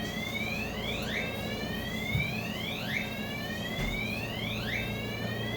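A building fire alarm test sends out a repeating electronic whooping tone that sweeps upward again and again in a regular cycle, somewhat distant behind steady indoor background noise.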